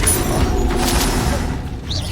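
A blasting-spell explosion from the Hogwarts Legacy video game: a single loud, dense boom with rumbling low end that holds for about two seconds, then tails off with a brief brighter whoosh.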